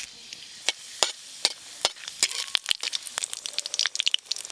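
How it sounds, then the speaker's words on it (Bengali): Dried red chillies and five-spice seeds tempering in mustard oil in a kadai, giving close crackling pops and sharp sizzles that grow denser and more continuous, with no talk. "কড়াই সর্ষের তেল দেবো, শুকনো লঙ্কা, 5 ফোড়ন।"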